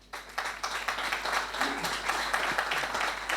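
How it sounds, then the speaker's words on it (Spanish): An audience at a round-table discussion on a football club's centenary in Cáceres gives a short burst of applause, dense even clapping that starts abruptly and holds for a few seconds in a reverberant hall. "Si os parece bien, le damos un aplauso para todos ellos."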